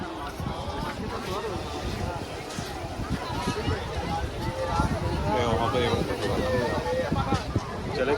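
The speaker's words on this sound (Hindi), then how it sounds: "देखो तो कितना क्या वेव मार रहा है।" Evening sea waves at Digha beach, a steady wash of surf mixed with strong wind buffeting the microphone, with voices and beach crowd noise over it.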